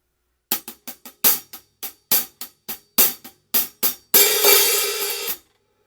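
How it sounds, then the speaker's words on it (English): Slow drum fill on a hi-hat: about eleven evenly spaced single-stroke hits with accents, closing with a longer, washy open hi-hat hit, close and clear with no talking. "The intro, it's a fill on the hi-hat"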